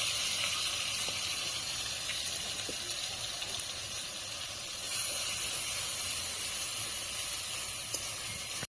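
A chilli, ginger and onion paste frying in hot oil for a Hilsa biriyani, a continuous loud sizzle and hiss with faint crackles that swells slightly midway, no talking, then cuts off abruptly.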